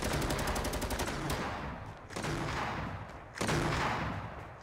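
Sustained automatic fire from a light machine gun in Fortnite rattles in long, dense bursts, broken by two brief pauses, loud and close with no talking over it.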